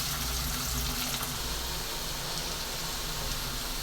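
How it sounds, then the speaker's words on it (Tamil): Garlic frying in oil until golden for a chutney, giving a dense, continuous close sizzle and hiss throughout with no pauses. "நல்லா ஒரு பொன்னிறமாக வர்ற அளவுக்கு நம்ம நல்லா வதக்கிடுவோம்"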